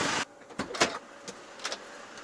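Power sliding door on a Kia Carnival minivan moving open and shut, heard as a few short motorized whirs and clunks close by, with quiet gaps between them.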